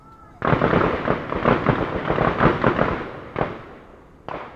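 A dense, continuous rattle of many overlapping gunshots from a range, loud and sustained for several seconds, then a couple of separate bursts.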